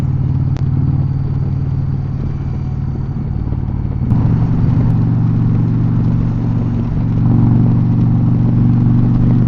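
Indian Pursuit motorcycle ridden along a road around 40 mph, its engine a loud, steady rumble close by, with a brief shift in tone partway through and the throttle rising slightly near the end; no talking.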